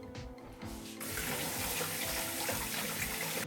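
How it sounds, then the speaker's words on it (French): Carrots are rinsed under a kitchen tap, a steady close stream of running water that swells fuller after the first second and splashes continuously over the vegetables. "Les carottes, je vais juste les rincer un petit coup."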